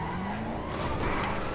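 A Bravado Buffalo STX muscle car in GTA 5 squeals its tires as it rips through a turn at high speed on a winding road, a short sustained skid over engine roar.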